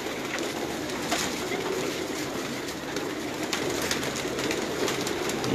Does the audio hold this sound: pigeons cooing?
yes